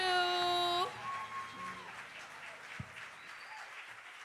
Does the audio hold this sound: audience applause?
yes